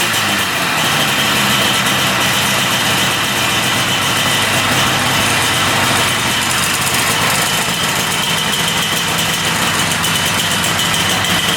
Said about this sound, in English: We got it idling good at 1500 RPM.